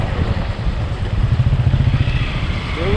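A motorcycle rides along a mountain road on the way from Pokhara toward Ghorepani, its engine loud and close with a rough, pulsing drone and some rattling.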